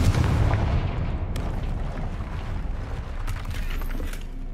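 A Confringo spell explosion in Hogwarts Legacy booms loudly at the start, followed by a rolling, crackling rumble with a few sharp debris cracks as it fades over several seconds.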